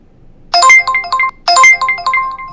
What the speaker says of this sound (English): now you can see the pop-up along with the notification sound, along with the request